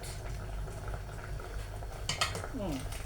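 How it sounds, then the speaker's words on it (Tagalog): Water with glutinous rice bubbling and rolling at a steady boil in a pot, a continuous close hiss with a few clinks of a utensil near the end. "Kumukulo na siya."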